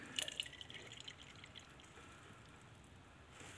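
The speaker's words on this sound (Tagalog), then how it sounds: "Lubos kong lagay itong tubig." Water is poured onto an indoor potted plant in Saudi Arabia, giving a soft, steady trickle and splash with a few faint drips at the start. It stays quiet and close, and no one speaks.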